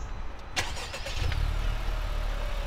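A car engine cranks and catches, with a sharp burst of starter noise followed by a steady low idle rumble, close and fairly loud.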